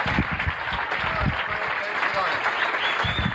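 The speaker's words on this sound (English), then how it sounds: "Nice round of applause, Frank Prinzi." Audience applause for comedian Frank Prinzi at the close of a stand-up comedy set, a steady wash of clapping that holds at an even level throughout, with a voice speaking over it.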